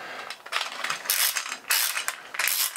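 A key turns to wind a 3D-printed clockwork motor, giving rapid ratcheting clicks in several short bursts with brief pauses between them, close up and alone.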